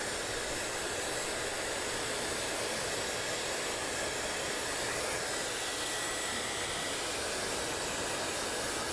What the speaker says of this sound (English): I like how it not as loud as a regular dryer.